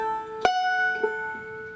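Banjo playing measure 3 of the bluegrass tune John Hardy, up the neck: two sharp plucked attacks about half a second apart, a bright ringing sustained tone between them, solo and close with no talking.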